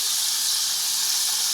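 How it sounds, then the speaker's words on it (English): Deer hearts sizzle in a hot pan, a steady, even, high-pitched hiss with no talking over it. "And it is starting to get that nice sizzle."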